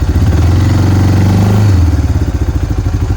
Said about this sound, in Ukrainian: Зараз я газонув для наглядності